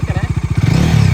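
A second-hand motorbike engine idles nearby, its loud, chugging pulses slowing and then running into a smoother, steady throb.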